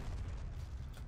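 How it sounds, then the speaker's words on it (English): A grenade explosion in the shooter game Heroes & Generals, a short muffled low boom with dense rumbling tail, fairly quiet, with no talking. "He shot that grenade again."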